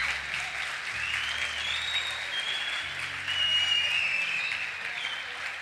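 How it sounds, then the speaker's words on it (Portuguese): A church congregation applauds during a sermon, a steady wash of many hands clapping at once, fairly loud and sustained for several seconds with a slight swell near the end, with faint vocal tones threading through. "Aplauda o Senhor Jesus."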